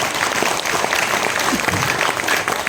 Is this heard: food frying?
no